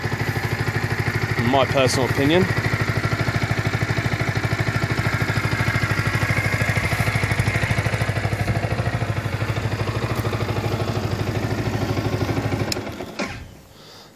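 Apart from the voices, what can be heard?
Yamaha YZF R125 motorcycle stock exhaust running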